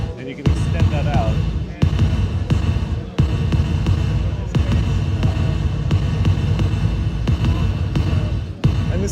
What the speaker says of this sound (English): And as I lower the threshold, this is a gated reverb like you may have heard in the 80s.